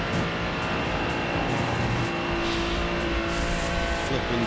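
A Ferrari GT3 race car at Spa in the iRacing sim racing game gives a loud, steady engine roar with an induction note. The engine drones continuously at high revs, and a faint voice sits underneath.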